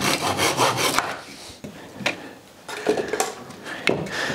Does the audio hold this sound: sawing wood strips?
yes